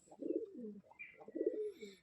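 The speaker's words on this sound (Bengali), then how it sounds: "তো বন্ধুরা পায়রাগুলো একবার তাও আপনাদের প্রথম থেকে দেখিয়ে দিই কারা কোথায় আছে।" Pigeons in a home loft give two clear, throaty coo phrases close up, each rolling call rising and falling, with a short pause between them and quiet in the background.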